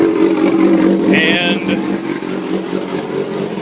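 A 2006 Kawasaki Ninja ZX6R motorcycle engine runs with a steady, loud mid-pitched drone, holding fairly even throughout while someone talks over it.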